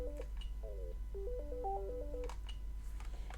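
A telephone ringtone plays a short melodic sequence of electronic tones, fairly close, with no voices over it, then stops.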